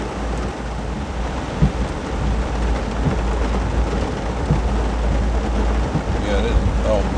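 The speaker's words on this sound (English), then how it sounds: "thunder came through quick, lightning, and then our old friend heavy rain, and our other old friend gusty winds" Heavy rain pours during a violent thunderstorm with gusty winds in the Gatlinburg and Pigeon Forge area, a dense, steady roar of rain and wind that stays loud throughout.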